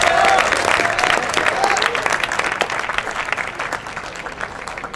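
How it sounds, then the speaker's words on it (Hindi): Audience at a Vijay Diwas 2024 event at Doon Defence Academy clapping, loud dense applause that starts strong and gradually thins out over several seconds. "तालियां बजाओ, ताली बजाओ."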